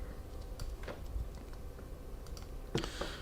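Computer keyboard keys clicking in a few scattered bursts, with a heavier cluster of taps near the end, as text is cut and pasted; quiet and close, with no one talking.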